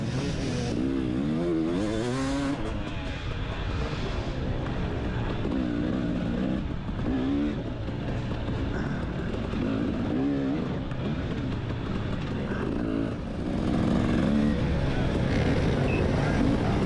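Dirt bikes racing in a hare scramble at The Stomp in 2019, with loud, continuous engine drone that rises and falls as the throttle opens and closes throughout.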